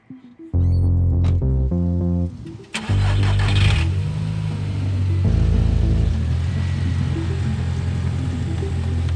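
Audi TT engine cranking and starting, then idling and revving while the car is parked, with a brief beep-like tone at the start, loud and close.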